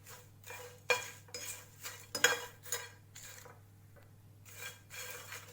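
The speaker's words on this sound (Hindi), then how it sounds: "इसे भी हम अच्छे से भून लेते हैं" Cinnamon and nutmeg pieces dry roasted in an empty pan, stirred with a metal spoon that scrapes and clinks against the pan in repeated short bursts, close and moderately quiet.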